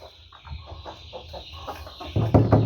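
A hen clucks in soft, repeated low calls near a coop, growing louder and closer toward the end, with no one speaking.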